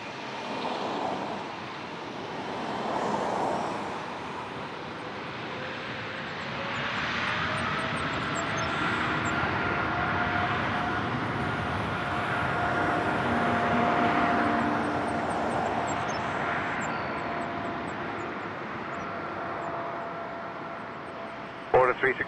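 An Air Canada airliner rolls for takeoff on runway 23 at Toronto Pearson, its jet roar broad and steady at a distance while air traffic control radio chatter runs over it throughout.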